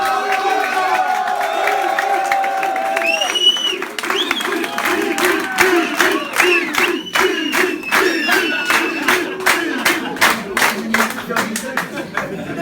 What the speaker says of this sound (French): Je vous demande un tonnerre d'applaudissements pour Emilien.